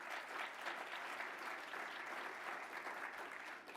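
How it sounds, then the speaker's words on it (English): An audience at a governors' association winter meeting gives a steady round of applause, a dense, even wash of clapping from a large room at moderate distance. "Please give Cameron a round of applause"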